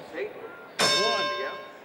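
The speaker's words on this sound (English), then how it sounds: "Let's ring the dinner bell for every deep breath we take." A dinner bell is struck once and rings out loud and close, its bright clang decaying slowly, while a voice is heard faintly beforehand and a wavering tone sounds under the ring.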